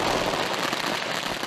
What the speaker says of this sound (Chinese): 亦都有人按傳統放爆竹送牛迎虎